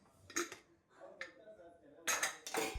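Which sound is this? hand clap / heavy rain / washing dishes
washing dishes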